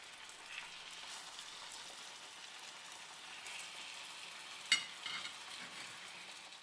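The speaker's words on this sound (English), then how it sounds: "Fry the salmon fillets over medium heat for 5 to 6 minutes, both top and bottom" Salmon fillets pan-fry over medium heat under a lid, giving a soft, steady hiss of sizzling that crackles throughout, with one brief clatter near the end and no talk.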